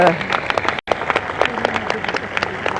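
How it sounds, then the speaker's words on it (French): A crowd claps continuously at the harbour locks during the Route du Rhum 2022 sailing race. The dense applause runs throughout, with a voice speaking over it. "On applaudit encore une fois."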